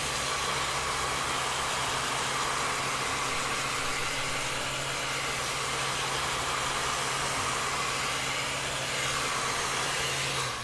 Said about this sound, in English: take your heat gun and get the vinyl just a little bit warm